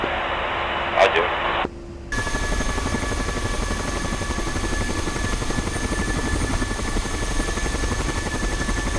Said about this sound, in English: There's a helicopter to the west of the runway.